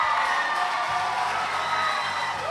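An audience cheers, whoops and claps for a contestant at the Miss Western Province pageant in the Solomon Islands, a steady crowd roar at moderate distance.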